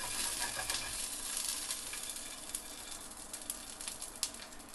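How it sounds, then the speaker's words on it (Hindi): Tomatoes searing in oil in a pan, with a steady close-up sizzle and a few brief crackles, no voices. "इसके अलावा हमें टमाटो है, इसको भी थोड़ा सा हम सियर कर लेंगे।"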